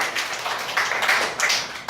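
Classroom of young students clapping together for a classmate, a dense, even patter of hand claps lasting throughout at moderate loudness.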